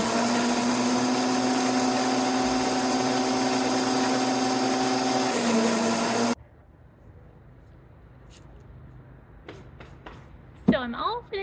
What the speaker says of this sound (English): So I'm all finished mulching my first wheelbarrow of leaves this season.